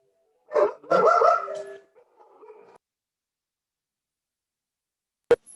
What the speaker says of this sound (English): Barks at everything that moves.